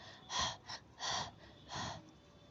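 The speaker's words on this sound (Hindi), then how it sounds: "हाँफना शुरू कर दिया और लंबी लंबी सांसें लेना शुरू कर दिया" A buffalo panting in a field, three or four long, heavy breaths close by, each a breathy whoosh with short pauses between them.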